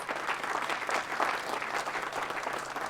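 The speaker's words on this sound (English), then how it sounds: "please give them a big round of applause" Audience applause at an India Day event in a library, a steady wash of many hands clapping, moderately loud and continuous for the whole stretch with no talk over it.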